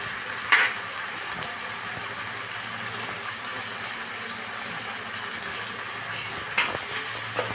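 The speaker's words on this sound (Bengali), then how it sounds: "দিয়ে এবারে আলুর সাথে মশলাটাকে ভালো করে আমি কষিয়ে নিচ্ছি।" Potatoes frying with chilli, turmeric and cumin powder in a pan, a steady soft sizzle throughout with a couple of brief louder scrapes near the start and end.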